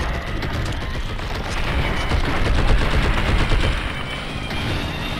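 Dense, continuous gunfire from the video game Blood and Bacon, rapid overlapping shots forming a loud, unbroken roar of automatic fire with no pauses.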